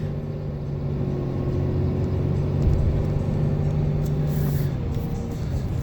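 Ram 3500 pickup with a Cummins diesel rolling on the throttle, a steady low engine rumble and drone heard from inside the cab, swelling slightly midway.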